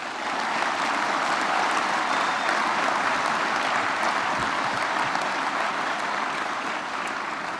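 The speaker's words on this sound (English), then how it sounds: "Students, let's give the faculty and staff and our family and friends a round of applause." Sustained applause from a large commencement audience at Norwich University, a thick, steady wash of clapping lasting several seconds without speech.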